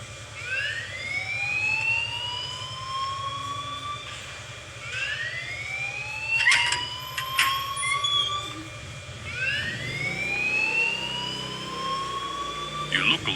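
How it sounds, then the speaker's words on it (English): Alarm in the Life is Strange video game, a repeating rising electronic whoop that sweeps upward three times in regular cycles, loud and close over a low steady hum. "please turn off that alarm since that's your job"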